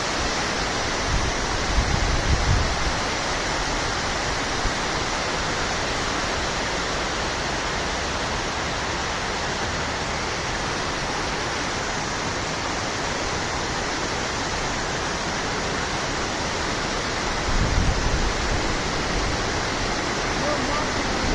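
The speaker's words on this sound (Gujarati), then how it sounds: "અવાજ પણ પાણીનો તમે સાંભળી શકો છો" Water rushes over Droneshwar dam near Una, a dense, unbroken roar like a waterfall that stays loud and close throughout, with brief low rumbles near the microphone.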